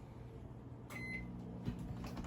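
A microwave oven is set to power level 8 for 5 minutes to cook a small keto carrot cake, giving a short beep and then a steady low hum as it starts running close by.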